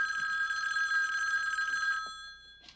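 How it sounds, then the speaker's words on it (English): A telephone bell rings steadily for about two seconds, a bright sustained trill, then cuts off, followed by a brief faint rustle. "Mike, there's a call for you."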